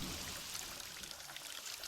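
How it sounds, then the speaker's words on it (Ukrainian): Steady rush of hot water pouring from a tap into a bathtub, a continuous hissing splash with no voices, fairly quiet throughout. "У ванні я відкрутила гарячу воду."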